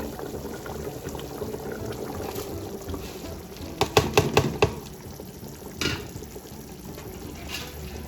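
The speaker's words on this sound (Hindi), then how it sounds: "आप देख सकते हैं पानी को जो है उबाल आ गया है" Water bubbles at a boil in a cooking pot for beef yakhni pulao, a steady low churning with a brief burst of clinks and splashes partway through.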